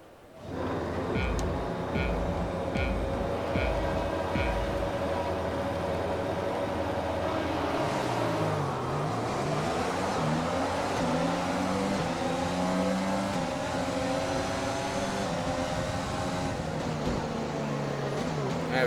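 Formula 1 cars roar off the line at a game's Austrian Grand Prix start, engines revving hard through rising and falling gear shifts, loud and continuous, with other cars screaming past nearby.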